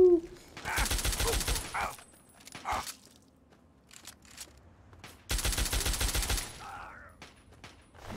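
Automatic Infiltrator rifle fire in the video game Fallout 3, two loud sustained bursts of rapid shots separated by quieter gaps with short single shots and faint game sounds in between.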